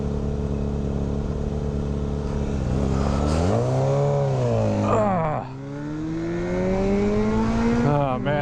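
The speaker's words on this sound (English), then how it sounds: "Alright, we're gonna race this Fireblade" A Honda Ruckus scooter launches from a green light in a race against a Honda Fireblade motorcycle, engines droning and rising in pitch as they accelerate, one pulling away with a climbing whine and a second surge near the end.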